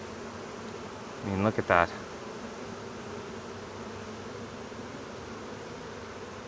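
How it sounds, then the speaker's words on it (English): Many honey bees buzz steadily around a beehive in a cold-climate permaculture apiary, a soft continuous drone throughout, with a brief burst of a man's speech early on. "so you can see just how many bees we're talking here"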